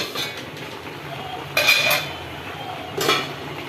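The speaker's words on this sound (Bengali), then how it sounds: "এবার আমি নেড়ে ছেড়ে ঢাকা দেবো ঢাকাটা দিয়ে দিলাম" A metal lid clinks onto a cooking pot of ash gourd, two short bright clanks with light scraping between, close and otherwise quiet.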